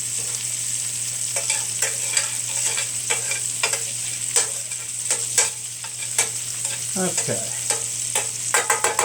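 Shallots and baby portobello mushrooms sauté with thyme in a pan, a steady hissing sizzle with sharp clicks and taps of stirring, close and clear, while a voice briefly speaks.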